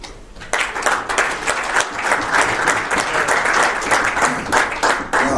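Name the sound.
audience applause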